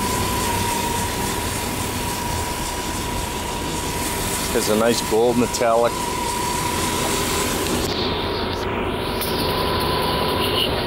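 A 1983 Mercedes-Benz 380 SL's 3.8-liter dual-chain V8 idles with a steady rumble throughout at an even level, with someone talking briefly over it around the middle.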